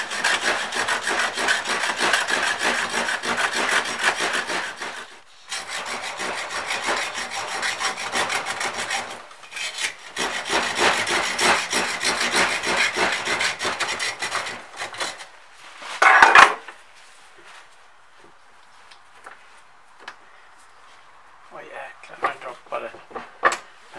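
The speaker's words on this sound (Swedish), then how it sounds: "Vi ska försöka att såga upp det gamla bensinfiltret." A traditional hand saw cuts open an old fuel filter from a Volvo such as an S60, S80, V70, XC70 or XC90, with long rhythmic rasping strokes in several runs, then quieter scraping, and someone speaking Swedish at times.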